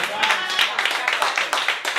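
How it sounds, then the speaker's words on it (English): Audience at a poetry jam clapping steadily and fairly close, a dense run of handclaps with bursts of cheering voices mixed in throughout. "Keep clapping, keep clapping, keep clapping"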